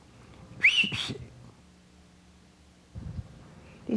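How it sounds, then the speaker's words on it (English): An elderly man gives a couple of short, sharp whistles through his teeth, rising in pitch, close and fairly loud, followed by quiet and a few low vocal sounds. "We whistle through her teeth."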